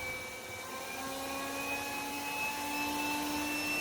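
A Yeedi Mop Station Pro robot vacuum running at maximum suction gives off a steady, fairly loud whirring hum with thin high whines, continuous and close, with no talking.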